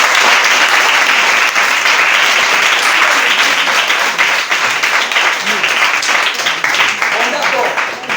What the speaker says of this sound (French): Acclame pour cela.